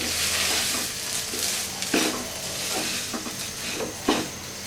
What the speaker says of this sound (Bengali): অধিকাংশ চাল সাদা হয়ে গেছে আর এটা একটা শব্দ শোনা যাবে নাড়ার সময় সনসন করবে